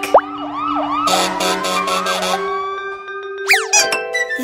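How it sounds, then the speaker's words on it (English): A siren sweeps up and down over a sustained tone, broken by a burst of rapid pulsing blasts, then a sharp rising whoop near the end. "The fire truck."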